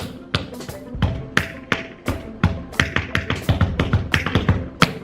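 Rapid tap shoe steps clatter in a steady rhythm, sharp heel and toe strikes close by with a faint hum underneath.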